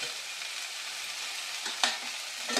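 Fresh radish pieces stirred in a hot pan for Rayalaseema-style sambar, a steady soft sizzle with a few scraping stir strokes near the end, close and alone.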